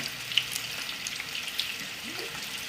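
Bacon fries in a pan with a steady, fairly soft crackling sizzle and scattered small pops, with no voices.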